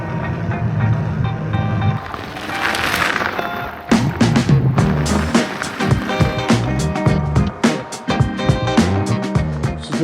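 An Engwe Engine Pro 2.0 electric bike, a 52V 2024 model, rides along outdoors with steady rolling and rattling noise, loud and close, with bumps and clunks along the way and no talking.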